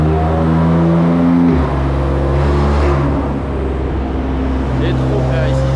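A BMW M2 tuned past 700 hp rumbles loudly at close range, a deep idle shifting pitch partway through, with talking over it.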